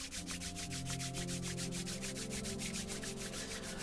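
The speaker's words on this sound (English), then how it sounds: "Let's bring the hands together. Create some heat and energy between the hands." Hands rub together briskly in a fast, regular back-and-forth rhythm, a close swishing friction sound over a soft sustained musical drone.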